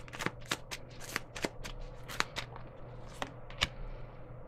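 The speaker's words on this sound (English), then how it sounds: "let me throw a couple cards, see if we get anything on this" Tarot cards are shuffled and drawn by hand in a quiet room, with a series of crisp card flicks and snaps at an uneven pace, close and fairly soft over a low steady hum, with no talking.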